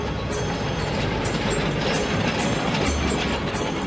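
A train on the Janakpur–Jaynagar railway between Nepal and India, a steady, loud, close rumble of running carriages with a faint rhythmic clatter and metallic rattling throughout, no voices.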